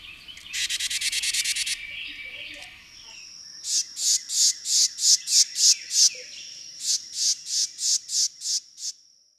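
Recorded bird calls: a rapid harsh buzzy alarm burst, then after a short pause a series of about fifteen evenly spaced, clear high song notes, moderately loud against a quiet background.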